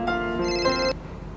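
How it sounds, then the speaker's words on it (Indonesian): A telephone ringtone plays a short, bright electronic melody close by for under a second, then cuts off into quiet room noise. "Wait, aku ada telepon sebentar nih"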